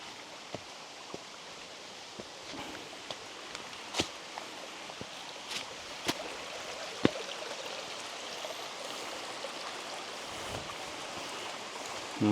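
Water running continuously through a cave water supply system, a constant rushing hiss with scattered sharp drips and clicks over it.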